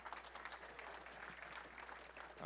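A round of applause at an all-star mastermind recording event, faint and distant, a thin steady patter of clapping from a modest group over a low background hum.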